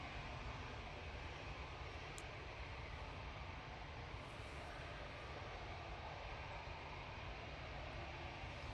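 An EasyJet airliner at Manchester Airport produces a steady, broad jet engine roar that holds evenly throughout, heard from a distance with no voices.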